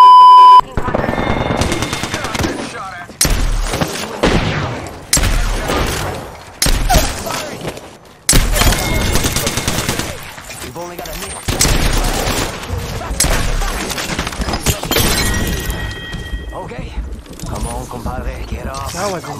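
Apex Legends gunfight: repeated bursts of loud automatic gunfire separated by short pauses, some sharp single shots between them, with voices talking over the shooting.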